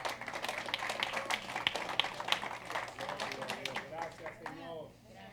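A church congregation applauds, a dense patter of many hands clapping at moderate distance that thins out toward the end, with a voice speaking over it.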